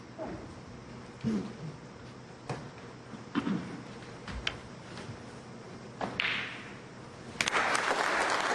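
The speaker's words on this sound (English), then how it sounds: "And that applause is for Bingham potting pink and black for a 3-0 lead over Mark Davis." In a snooker arena, the audience claps after pink and black are potted for a 3-0 lead in a Northern Ireland Open match. The applause is faint and distant, comes in scattered bursts, and swells near the end.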